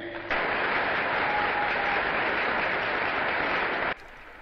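Loud, dense applause from a large crowd at the 19 June 1960 Vincennes Oath ceremony fills the room steadily, then cuts off abruptly near the end.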